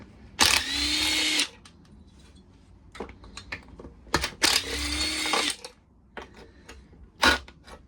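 A power tool strips 8 mm bolts from a lawnmower engine during a teardown, with two loud, close bursts of about a second each and scattered clicks and clatter between them.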